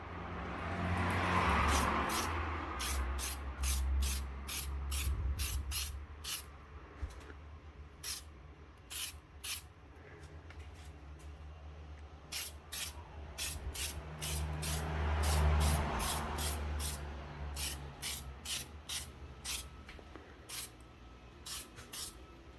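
Meguiar's headlight restoration kit spraying a coat onto a Y62 headlight, heard as repeated close hissy spray bursts in a steady rhythm, with two longer sustained sprays among many short pulses and no talking.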